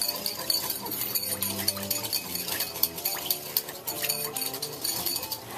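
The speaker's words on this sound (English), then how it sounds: "Take our whisk. You're whisking it! And whisk this all together." Whisk beating batter for a Vietnamese banh bot chien in a bowl, giving a rapid, continuous run of light metallic clinks and scrapes at close range with no talking.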